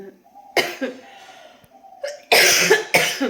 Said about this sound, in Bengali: দেখছো কথা বললেই কাশি শুরু হয়